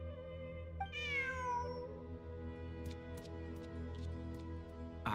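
A cat in Genshin Impact lets out a single drawn-out, rising-then-falling meow, clear and close, followed by faint ticking over a soft steady background of game music.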